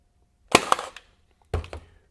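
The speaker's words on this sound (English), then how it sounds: "And now I'm going to shoot through the purple heart." A RIDGID 23-gauge pin nailer driving pins into hard purpleheart wood, two sharp pneumatic snaps about a second apart, each with a short rattling tail, close and loud in an otherwise quiet space.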